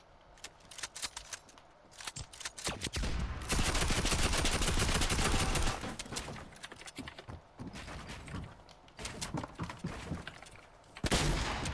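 Gunfire in the video game Fortnite comes in rapid bursts of sharp shots and clattering mechanical reloads, loud and dense in places with brief pauses between volleys.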